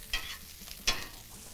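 Venison meatloaf mixture sizzles gently in a pan, with two brief, sharper scrapes of stirring against a steady low frying hiss, close and fairly quiet.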